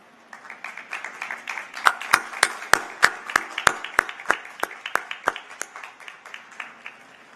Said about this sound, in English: Your family, friends, and fellow students join me in applauding your success.